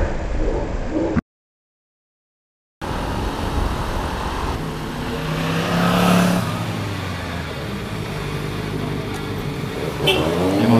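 Big motorcycles passing on a road during a Sunday ride, engine rumble swelling and fading as they go by, mixed with wind and traffic noise, with some voices nearby.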